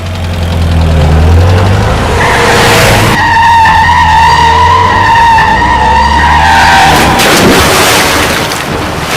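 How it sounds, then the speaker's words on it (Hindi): Car tires screech and skid loudly as the car pulls away with a revving engine, a sustained close squeal rising and wavering over the engine roar for several seconds. "किशन ने गाड़ी स्टार्ट कर दी"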